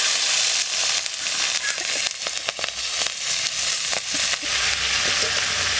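Green chillies hit hot oil already spitting with mustard seeds and dried red chillies, giving a loud, steady, close sizzle with crackling pops throughout and no voices.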